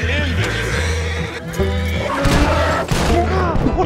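A horse whinnies loudly amid busy Red Dead Online game noise, with dense overlapping effects and a voice-like layer throughout, close and continuous.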